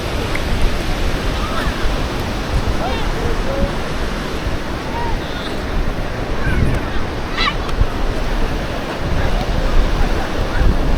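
Ocean waves break and wash continuously onto Praia dos Ingleses beach, a loud close rushing surf with gusty wind buffeting the microphone throughout.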